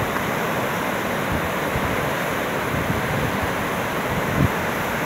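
Heavy water rushing over the spillway of the Jati dam, a loud, continuous roar of churning flow with a few faint knocks underneath.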